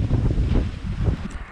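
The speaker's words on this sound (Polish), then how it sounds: "Kurczę, wiatr się mocno zerwał i coraz ciężej się tu robi" Strong wind buffets the microphone outdoors at a goose-house building site, a loud continuous low rumble with gusting swells throughout.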